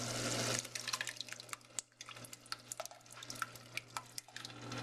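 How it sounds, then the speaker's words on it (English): Reduced marinara sauce is poured into a pot, giving a wet, splattery run of drips and gloops over a steady low hum, with scattered sharp splashes throughout. "I'm going to go ahead and pour all that in there."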